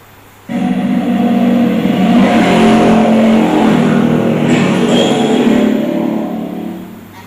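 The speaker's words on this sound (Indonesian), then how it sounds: "Nah, ini ada orang naik motor." A motorbike engine roars loud and close, a sustained revving drone that starts abruptly and holds steady for several seconds before easing off toward the end, with no talk over it.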